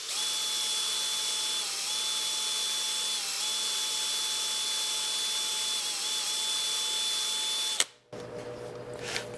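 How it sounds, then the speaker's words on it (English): A bench grinder fitted with a powered Scotch-Brite wheel polishes metal, giving a steady loud whine with a high pitched tone that holds for several seconds before cutting off abruptly, followed by brief clatter. "remove maybe some of the uneven movement marks from the powered Scotch-Brite wheel on the bench grinder"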